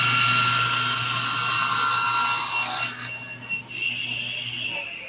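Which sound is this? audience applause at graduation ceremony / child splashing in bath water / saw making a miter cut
saw making a miter cut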